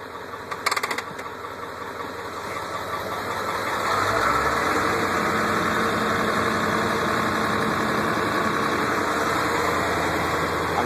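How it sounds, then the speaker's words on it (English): A demo bus engine idling steadily, then its RPM rises to a higher, louder high idle after a few seconds and holds a constant mid-pitched drone, close by with no talking. "I'm sure you heard the RPM change, and now it's idled up for when I got a demo."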